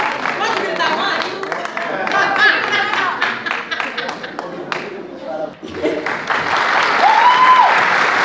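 An audience at a Faisão de Ouro 2019 event claps and cheers in a dense, sustained applause that swells toward the end, with voices shouting over it and a short dip midway.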